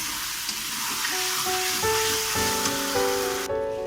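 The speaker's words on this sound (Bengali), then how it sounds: "মাংসটা এইভাবে ভালো করে উল্টে পাল্টে ভেজে ভেজে কষা কষা করে নিতে হবে" Chicken pieces for biryani fry and get turned in a pan with a continuous close sizzle, while sustained musical tones play over it and cut off abruptly near the end.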